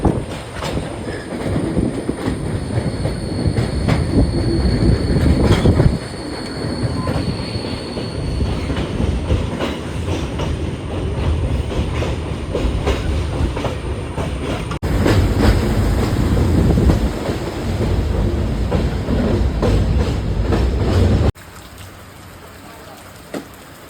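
A train at a railway station rumbling past with clattering wheels and occasional high squeals, loud and sustained, its noise shifting in sections before fading toward the end.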